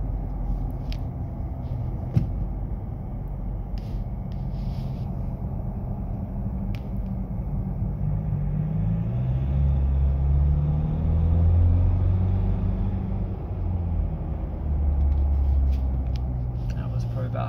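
Ford 2.0 biturbo engine revving at about half throttle, a steady low rumble that swells in the middle and eases off, heard from inside the car with a voice speaking over it.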